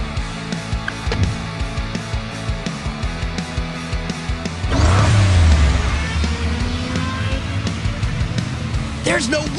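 Race car engine revving and accelerating in the Hot Wheels Unlimited racing game, a steady motor drone that swells loudly near the middle and stays under a voice talking throughout.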